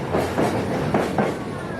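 A Kuranda Scenic Railway train rolls along the tracks with a rumbling, rhythmic clickety-clack of wheels over rail joints. The sound is steady and close, heard from inside the carriage.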